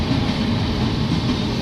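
Janmabhoomi Express (Visakhapatnam–Lingampalli) passing near Guntur on the Nallapadu branch line, a steady loud rumble of rolling rail cars and heavy low engine drone filling the whole stretch without a break.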